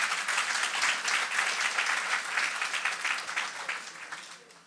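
A congregation at a French-language online church worship service bursts into sustained applause. The clapping is dense and steady, with scattered cheering, and it fades slightly toward the end.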